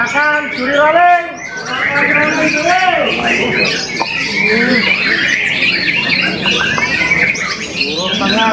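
Murai (white-rumped shama) songbird singing in a bird competition, loud varied whistles, squawks and rapid chirps repeating almost continuously and close by, with people talking in the background.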